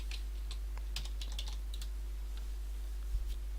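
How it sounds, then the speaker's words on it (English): Typing on a computer keyboard while writing C# code, with bursts of light, fast key clicks in uneven clusters, close and clear over a steady low hum, the keystrokes thinning out toward the end. "and then type in here characters"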